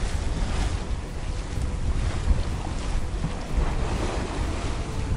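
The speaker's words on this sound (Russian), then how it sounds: "Вот такие вот огромные корабли мимо нас ходят." Huge ships passing at sea, heard as a steady wash of waves and rushing water with strong wind buffeting the microphone, continuous and without voices.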